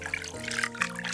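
Water poured over hands being washed in a Good Friday stage drama, a short soft splashing trickle under a tonal background hum, faint and close.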